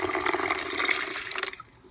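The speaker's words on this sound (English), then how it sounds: "And my water all measured out, and I'm going to pour it in here." Measured water is poured into a container while making cold process soap outdoors, a continuous splashing, trickling pour that stays steady, then tapers off at the end.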